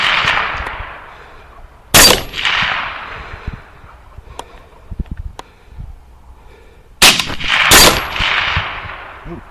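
Rifle shots ring out at night during a hog hunt: two loud sharp cracks, one near the start and a close pair later, each followed by a rolling echo, with quieter rustling and small knocks between them.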